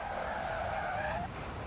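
A car in Forza Horizon 6 slides with a wavering tire squeal over a steady engine drone for about a second before the screech fades.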